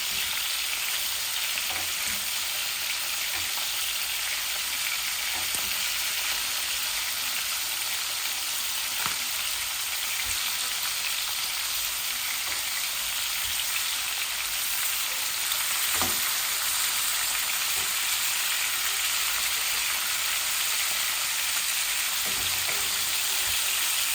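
Tilapia fish frying in hot oil in a pan gives a steady, dense sizzle with light crackles and pops scattered throughout, heard alone without any voices.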